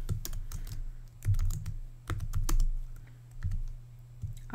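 Password typed on a computer keyboard, quick irregular clusters of close, soft key clicks with brief pauses between bursts and no talking.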